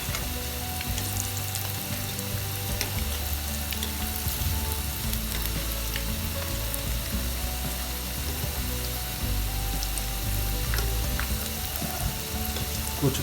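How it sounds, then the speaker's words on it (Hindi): Pakoras fry in hot oil with a dense, continuous sizzle and bubbling, loud and close, with occasional faint clinks as they are turned. "पकौड़े एक तरफ से हमारे ब्राउन हो चुके हैं। अब इनको पलटा लेंगे।"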